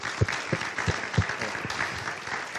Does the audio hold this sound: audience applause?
yes